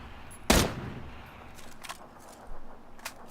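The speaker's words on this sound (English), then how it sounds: "I'm accidentally on burst fire." Burst-fire gunshots in the battle-royale shooter PUBG, a loud sharp blast near the start followed by fainter, more distant rapid shots later, with no talking.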